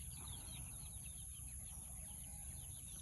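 Chickens cluck and chirp faintly in the background of a morning durian orchard, with other birds calling, over a steady outdoor hum with no talking.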